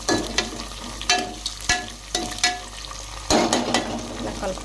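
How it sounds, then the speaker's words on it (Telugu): Chopped tomato, onion and green chillies sizzle in a pan while a spoon stirs them, knocking against the pan in a loose rhythm of about half a dozen clacks and scrapes over a continuous frying hiss. "టమాటా వేసాక ఒకసారి కలుపుకోవాలి"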